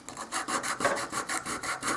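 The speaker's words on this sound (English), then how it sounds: "I'm just using a Dollar Tree emery board here." Spackle being sanded by hand with a cheap emery board, a steady rhythmic rasp of about a dozen quick back-and-forth strokes, close and even in pace.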